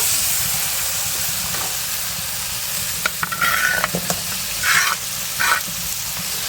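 Chicken meat fries in hot oil and spices with a continuous close sizzle, while a few louder scraping stirs clatter through the second half.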